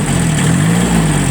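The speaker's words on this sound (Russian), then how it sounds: "Главное, что мы слышим, как работает двигатель." A Kubota B1502 mini tractor's diesel engine runs at a steady idle, an even mechanical drone with a constant low hum, close and unbroken throughout.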